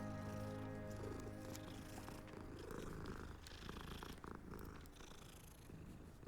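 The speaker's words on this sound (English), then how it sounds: "Kitty cat!" A cat purring in the video game Hogwarts Legacy, a steady low rumbling purr held throughout, continuous and close under soft game ambience.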